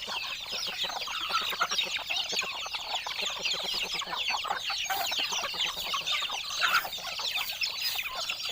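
A flock of chickens clucking and chattering continuously, busy overlapping calls close by with no talking.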